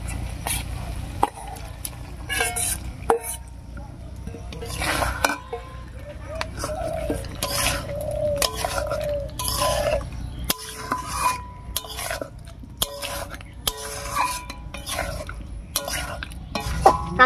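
Milk-soaked raw banana goes into a cooking pot with potato, bringing a close run of stirring, spoon scrapes and metal clinks over a low sizzle that continues steadily.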